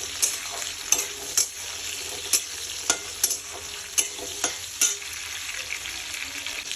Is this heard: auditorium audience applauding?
no